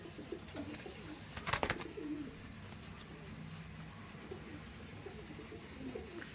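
Andhra Madrasi pigeons, shown as a pair of Fulshira birds at a seller's loft, give soft intermittent coos over a steady background murmur, with one brief louder burst of noise partway through.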